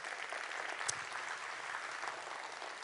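Steady, even applause from an evening awards audience honouring local businesses, a continuous wash of clapping at moderate distance with one brief louder clap near the start.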